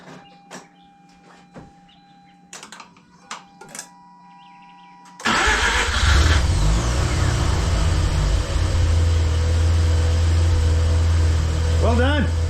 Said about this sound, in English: I'm going to go ahead and start the car now.